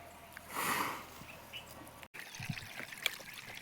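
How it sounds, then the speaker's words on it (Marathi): Water from a borewell runs into a farm field, a faint trickle and pour with a brief louder gush early on, heard alone and fairly distant. "आपल्या दुसऱ्या बोरचं पाणी चालू आहे"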